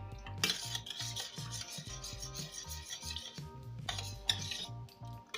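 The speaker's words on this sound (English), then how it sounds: "So just drop a little oil there, a little of the color there, and then mix thoroughly." Homemade hair cream is stirred with a little oil and colouring in a container, a rhythmic rubbing and scraping of a utensil against the sides, repeated strokes close up with no talking.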